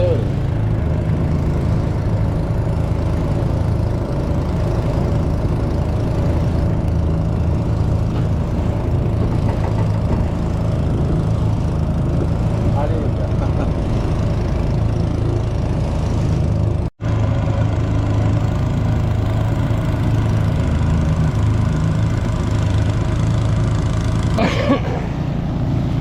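Boat engine running on backwater near Vallathuruthi during fishing, a steady droning motor hum close by and continuous throughout, with a brief dropout near the end.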